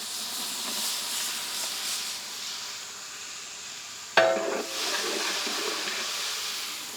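Mutton and tomato pieces fry in hot oil with a steady, close hiss, then a sudden sharp crackle flares up and settles into a stronger sizzle.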